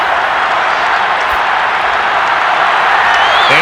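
Steady, loud crowd applause and cheering in the Madden NFL 22 football video game, a dense continuous roar filling the whole stretch.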